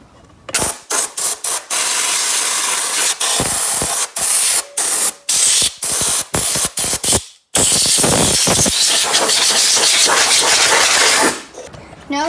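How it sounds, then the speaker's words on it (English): An air hose blows debris out of a John Deere 317 in a string of loud, sharp hissing bursts, then one long sustained blast before it cuts off. "get a air hose and blow that stuff all out"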